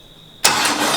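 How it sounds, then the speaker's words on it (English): A wingless sprint car engine is cranked by a freshly fitted starter motor: a faint steady hum, then a sudden loud burst of churning engine noise that holds to the end. "New fresh starter motor. That should start first go."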